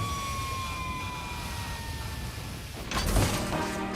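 A Grizzly Pumper Rescue Fire Engine sounds its siren, a steady wailing tone over loud engine rumble, with a sudden burst of louder broadband noise near the end.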